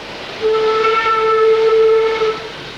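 A steam locomotive on India's Southern Railway in the Deccan gives a single sustained whistle blast of about two seconds, loud and close over a steady background hiss of steam.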